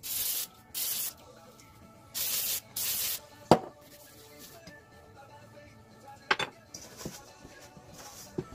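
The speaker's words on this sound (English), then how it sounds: "Little tip, spray your hands before you dig in there." Cooking spray hissing from a can onto hands in a kitchen, four short bursts of spray in quick succession, followed by quieter rubbing and a few sharp clicks and taps.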